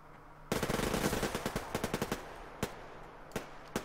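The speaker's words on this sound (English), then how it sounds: "we got a sniper at the top, and they're just pinning us right now" Gunfire in the video game Suvarium, with a sniper firing from above: a dense, loud rapid burst of shots, followed by several sharp, isolated single cracks spaced apart.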